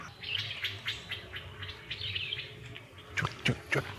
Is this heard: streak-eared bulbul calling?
yes